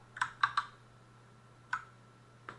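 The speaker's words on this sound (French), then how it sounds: "ce qu'on va taper au clavier" Several light key clicks sound on a computer keyboard, a quick cluster of three and then two isolated taps, close and quiet, over a faint steady hum.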